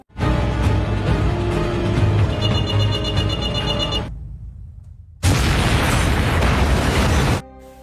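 Two bomb explosions in a La Brea Season 2 film scene, loud sustained roars, the first rumbling for about four seconds, then a brief lull before a second blast bursts in and thunders on.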